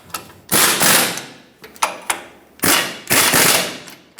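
Ratchet tightening the caliper bolts on a rear brake caliper of a Ford E-350 van: loud, close bursts of clicking, several separate runs with short pauses between them.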